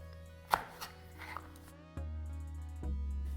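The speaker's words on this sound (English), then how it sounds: "we're now finished breaking down all of the pork spare ribs into their roughly 1 inch chunks" Pork spare ribs being chopped into roughly one-inch chunks with a few sharp, sparse blade strikes on a board, close and fairly quiet, separated by pauses.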